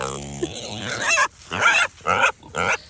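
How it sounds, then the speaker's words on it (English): Kunekune pigs on a farm grunting and snorting in a few short, loud bursts close by, with a child's excited higher squeal near the start. "So these are my new Coon pigs."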